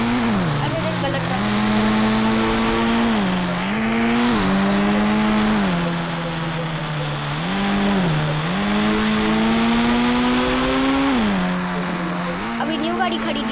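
A newly bought petrol car drones with a strong, steady engine tone that rises and falls in pitch as it accelerates and eases off, loud and close throughout the drive.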